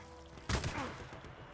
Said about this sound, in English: Between a shotgun and a goddamn machine gun at me, like, what am I supposed to do?